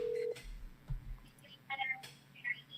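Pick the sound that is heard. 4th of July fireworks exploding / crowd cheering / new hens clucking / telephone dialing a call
telephone dialing a call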